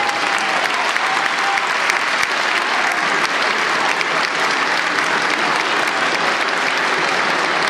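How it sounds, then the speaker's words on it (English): Sustained, dense audience applause at an elementary school's 100-year celebration in a large hall, honoring faculty members, loud and even throughout with no pauses. "a round of applause for these members of the faculty"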